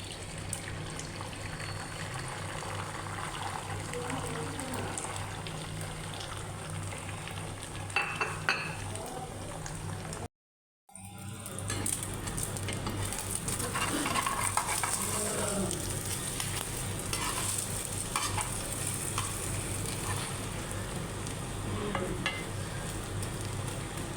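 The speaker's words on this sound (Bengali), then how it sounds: "তেল গরম হয়ে গেছে, এখন ডিমটা দিয়ে দিই তেলে।" Egg frying in hot oil in a home kitchen: a steady, close sizzle with light crackling that stops briefly, then resumes slightly louder and continues evenly.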